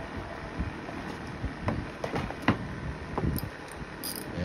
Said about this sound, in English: It takes a bolt here, is 13 millimeter or a half inch socket. So just get that out.